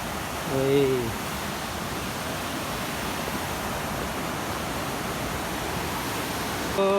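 A large river in Nepal rushing below a washed-out road bridge during the rains, a dense, continuous roar of water close by, with a brief voice heard at the start and end.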